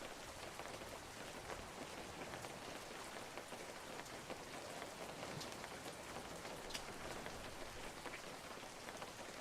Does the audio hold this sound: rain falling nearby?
yes